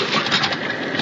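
Birds call and coo over a tropical beach as a radio drama effect, a dense continuous chorus with no voices over it.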